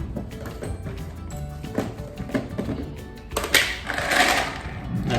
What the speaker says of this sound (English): I'm going to fill up with some pasta.